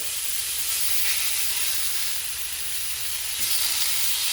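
Salmon fillets searing in a hot pan just after flipping, a loud, dense, continuous hiss of spattering oil that holds steady throughout with no talk over it.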